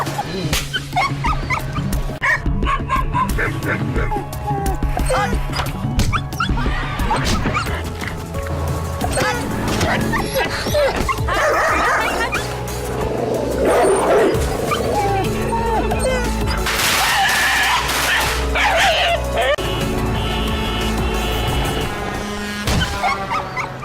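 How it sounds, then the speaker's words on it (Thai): Stray dogs bark, yip and whimper close by, overlapping almost continuously in a busy, loud mix with other background sound. "สุนัขจรจัดที่น่าสงสารเหล่านี้มาจากไหนกันนะ"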